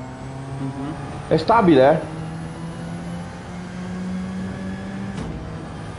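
An Alfa Romeo 4C engine in Gran Turismo 7 holds a steady mid-pitched drone, faint and continuous, while a person speaks briefly over it and another engine tone rises at the very end.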